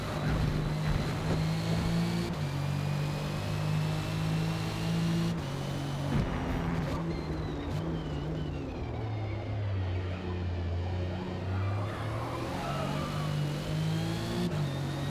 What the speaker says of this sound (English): Sounds like a BMW.